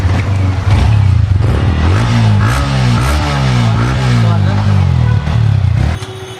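A Yamaha MT-15 motorcycle engine runs close by at a loud, steady idle, its pitch rising and falling gently with light throttle, while people talk over it.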